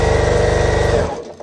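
Sewing machine running fast over quilt fabric scraps, one rapid even burst of stitching that stops abruptly about a second in.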